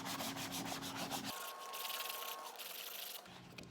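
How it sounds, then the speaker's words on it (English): Vinyl being rubbed down with a scraper during a peel-and-paint job, a steady dry scraping friction that runs the whole time, close and fairly quiet, changing texture partway through. "you can just even use your hand to give this a really good rub"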